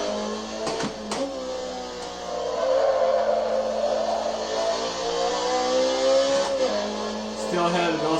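Racing cars circle a track in a racing simulator video game, the engine tone rising and falling through gear changes and oversteer, with a few sharp clicks and a voice talking underneath.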